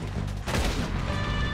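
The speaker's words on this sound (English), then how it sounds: "Shooting at me." Gunfire in Red Dead Redemption 2, a quick, loud volley of shots in a dense burst lasting under two seconds.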